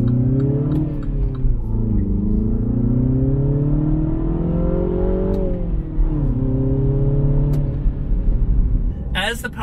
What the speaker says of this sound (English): I'm gonna get into sport mode here. We're gonna accelerate when we pull onto this road.